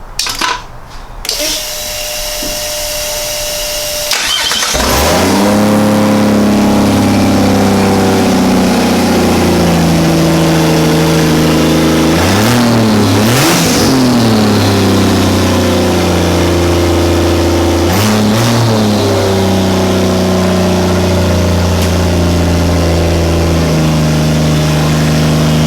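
A Barra straight-six in a Toyota 80-series build is cranked, catches and settles into a loud, steady idle, with throttle blips and revving swells around the middle and later parts.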